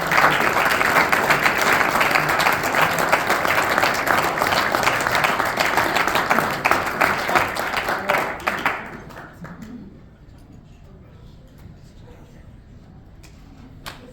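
A crowd at a high school boys bowling awards banquet gives a loud, sustained round of applause for a season award winner, then it fades over several seconds into quiet room tone.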